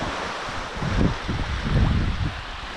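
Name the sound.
waves breaking on Lake Huron shore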